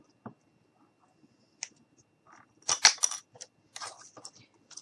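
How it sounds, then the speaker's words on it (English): Scissors snip small craft pieces for a miniature fall wagon, giving a few quiet, sharp clicks and short crunchy cuts spaced apart in a quiet room. "And then I'm going to cut 2 more pieces."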